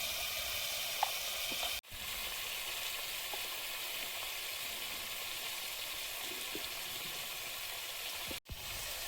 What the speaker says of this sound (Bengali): পুঁই শাকের ডাঁটাগুলো দিয়ে দেবো।